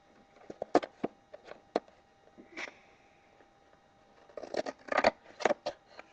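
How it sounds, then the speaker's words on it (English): Scissors cut through tech deck fingerboards in a series of sharp, close snips and clicks, sparse at first and then bunching together in quick bursts, with no talk. "So I'm just gonna cut off the 2 tech decks."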